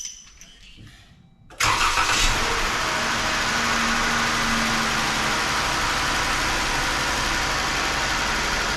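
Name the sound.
Chrysler 3.6L Pentastar V6 engine starting and idling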